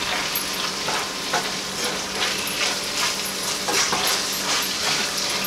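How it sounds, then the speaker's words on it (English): Enchilada sauce poured into sizzling ground beef and onion in a hot pan. There is loud, continuous frying hiss with scraping stirs and clicks throughout, close up and with no talking. "I'm going to add about a half a cup of my sauce to my ground beef and onion mixture"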